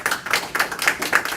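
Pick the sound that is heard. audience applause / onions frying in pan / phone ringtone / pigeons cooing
audience applause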